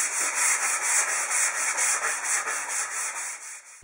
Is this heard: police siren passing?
no